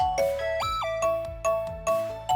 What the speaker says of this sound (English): My phone rang right at that moment.